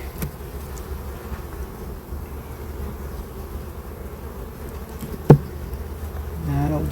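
Honey bees buzz around an open hive with brood frames pulled, a low, steady hum close by, with a sharp knock partway through and a rising drone near the end.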